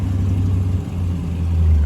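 A sold truck pulls away, its engine giving a steady low rumble that swells slightly near the end, close by with no talk.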